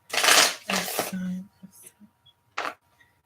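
A deck of tarot cards is shuffled in two quick riffling bursts up close, followed by a brief final flick, with a short murmur of voice between them.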